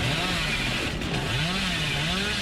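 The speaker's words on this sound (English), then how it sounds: "He didn't land that chainsaw on Jimmy." The Hillbilly's chainsaw revving in Dead by Daylight, a loud continuous motor drone that rises and falls in pitch over the whole stretch.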